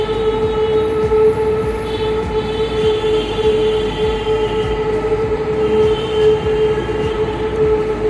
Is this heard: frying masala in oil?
no